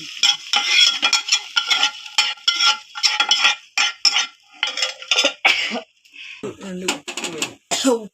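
Ingredients for kara pongal frying in a pan, with a spoon stirring and scraping, occasional clinks of utensils and a soft sizzle, while someone talks throughout.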